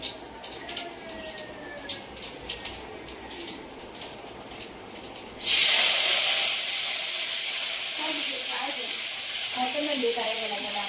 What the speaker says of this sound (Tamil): பூண்டு போட்டாச்சு.